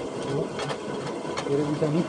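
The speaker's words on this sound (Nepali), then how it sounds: "तल टर्बाइनले घुमाइदियो यहाँ माथि मकै हुँदो रहेछ" A traditional turbine-driven water mill grinds maize into flour, giving a steady mechanical whirring hum with rhythmic vibration, close by, while people speak over it.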